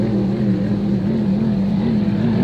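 Vintage racing powerboats in a regatta heat drone past as a loud, steady engine roar with a slowly wavering pitch, continuous and close throughout.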